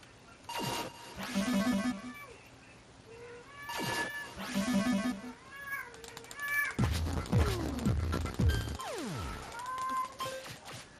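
A house cat meows repeatedly nearby, several rising and falling cries over electronic game jingles and beeps, with a few brief words spoken.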